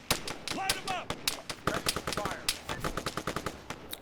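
AI-controlled units in the military game Arma 3 open fire together, producing loud, rapid bursts of overlapping gunshots and automatic weapon fire that crackle continuously for several seconds, with brief voice chatter mixed in.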